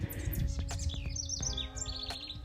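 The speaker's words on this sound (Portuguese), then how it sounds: "escuta os passarinhos" Several small birds chirp and tweet repeatedly outdoors, with quick high calls overlapping at a moderate distance over a faint steady background hum, with no talk.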